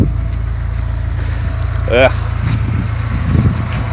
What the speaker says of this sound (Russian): Тачка для оффроуда.